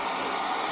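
A hair dryer-style blower runs steadily at close range, drying a pet's freshly washed fur in one continuous, even whoosh with no talking.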